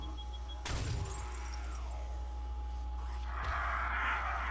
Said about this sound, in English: That sounded like glass breaking.